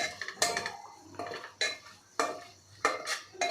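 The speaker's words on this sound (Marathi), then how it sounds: "आता हे सगळं आपल्याला मिक्स करून घ्यायचं आहे" A spoon clinks and scrapes against a pan while coriander powder and roasted cumin powder are mixed together for chole masala, several distinct metallic strokes in a loose rhythm, close and fairly quiet with no talk.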